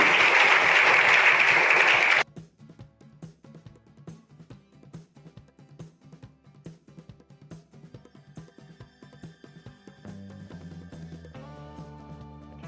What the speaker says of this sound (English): Big round of applause for Mohammed Faisal.